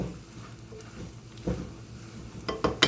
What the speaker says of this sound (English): So I'm gonna just mix that up and stir it.